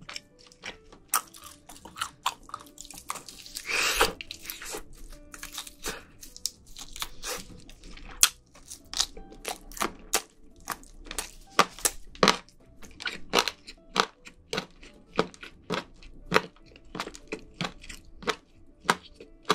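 Someone chews crunchy chicken tenders that were air-fried at 180 degrees for 25 minutes. The bites come close and crisp as a steady series of sharp crunches, with quiet gaps between them and no talking.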